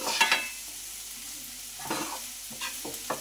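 Mushroom curry with minapa vadiyalu, seasoned with curry powder and chilli, fries in a pan. A soft, steady sizzle carries a few scattered scraping stirs and clinks, and no voices are heard.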